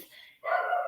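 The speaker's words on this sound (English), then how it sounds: "If you can hear the barking in the background, sorry, that's my dog." A pet dog barks in the background, a short burst of bright, harmonic yelps rising out of a quiet room after a brief lull. Moderately loud, with no talk over it.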